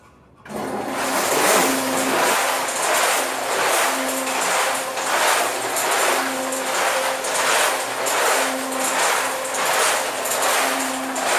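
A large tumbler machine starts up and runs, its rotating drum producing a loud whooshing churn that swells and fades in a regular cycle roughly every two seconds, with a faint recurring squeak or hum.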